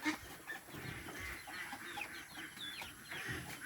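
Chickens cluck steadily in a busy farmyard, a few sharp calls rising over a constant low murmur of fowl.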